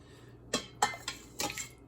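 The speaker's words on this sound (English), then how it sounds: "just ladle this over the top of these" Sauce being ladled over wet burritos from a pot of hot jus with onion and cilantro chunks: four soft clinks and pours of a ladle against the pot, spaced irregularly and close, with no talk.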